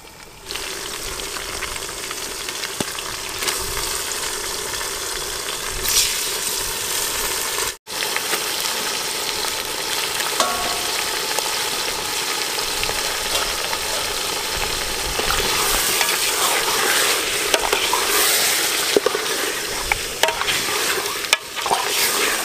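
Mutton frying in oil with ginger-garlic for gongura biryani in a large two-kilogram batch, a loud continuous sizzle broken by repeated stirring scrapes, close up, with no voices.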